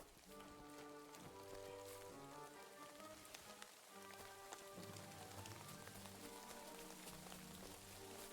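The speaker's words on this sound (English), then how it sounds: "Raining." Rain falling in the medieval world of Kingdom Come: Deliverance II, a soft steady patter beneath layered game music with sustained tones, quiet and continuous.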